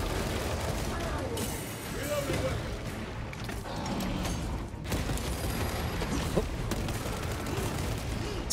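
Hip-fire gunfire from a Space Marine's weapon in Warhammer 40k Space Marine II, a dense, continuous barrage of shots and battle noise running throughout the scene with voices talking over it.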